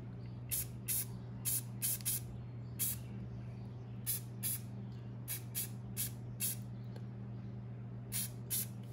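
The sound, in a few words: leafy green spray paint sprayed lightly on model trees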